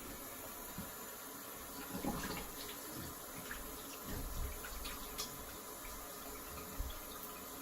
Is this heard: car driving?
no